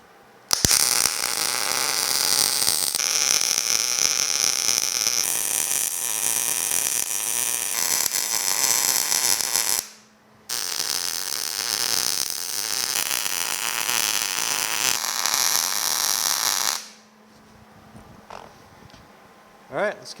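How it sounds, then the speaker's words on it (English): Welding on a homemade steel car rotisserie: a loud, steady crackling arc burns in long continuous runs of several seconds, broken by a short pause and ending in quieter shop noise. "Let's go ahead and get this thing welded up."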